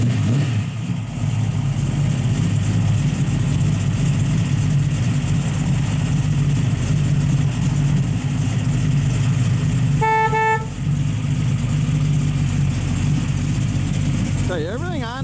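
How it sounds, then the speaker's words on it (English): A 1969 Pontiac Firebird with ceramic headers and a full 3-inch exhaust idles with a steady, deep rumble up close, and a brief horn toot sounds partway through. "Fires right up. Nice set of ceramic headers. This car's got a full 3-inch exhaust."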